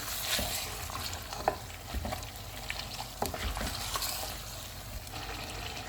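Steady sizzling of mutton frying in a pot, with scattered stirring clatters and scrapes over a continuous crackle.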